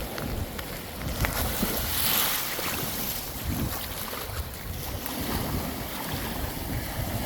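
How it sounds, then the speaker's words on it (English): Ocean waves wash up on a Marco Island, Florida beach, pushing shells in with a constant rushing, churning surf and gusty wind buffeting the microphone, with no voices. "The waves are coming up, pushing shells in,"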